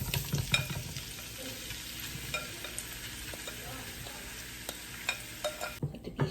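Fish pieces fry in a pan on medium heat for tacos, giving a steady, soft sizzle with a few light clicks and taps from a utensil and the pan.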